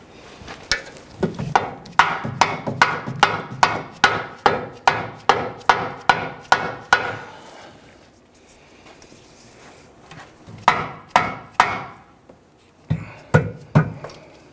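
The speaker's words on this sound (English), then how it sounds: "then we'll use a mallet or a dead blow hammer." A dead blow hammer strikes in a fast, even series of sharp knocks, tapping a rear upper control arm bushing into a 1999-2004 Jeep Grand Cherokee, pauses, then delivers two shorter bursts of taps close by.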